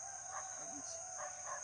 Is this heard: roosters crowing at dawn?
yes